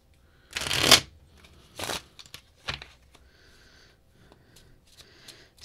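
Close-up riffle shuffling of playing cards: one long rattling burst followed by two shorter ones, with soft card handling and rustling in between.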